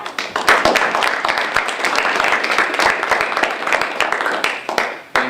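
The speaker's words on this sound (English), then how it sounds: "Let's give him a round of applause." An audience gives a sustained round of applause for a guest speaker at a campus talk, dense, steady clapping loud and close throughout with no talk over it.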